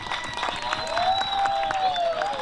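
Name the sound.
audience applauding the jury at a folklore festival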